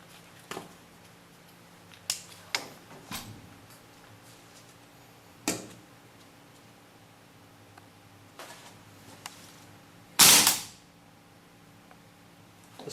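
Shots from a RA Tech KWA AK gas blowback airsoft rifle (Japan version), a handful of sharp, spaced cracks at close range in a quiet room, the last one loudest with a brief hissing tail.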